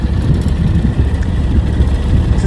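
A lawn tractor engine running hot and rough drones loudly up close. The low rumble is steady but lumpy, and wind buffets the microphone.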